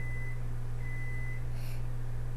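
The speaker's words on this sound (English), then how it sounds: "Every time you hear my machine beeping" A thin electronic beep sounds twice in long steady tones over a constant low mechanical hum.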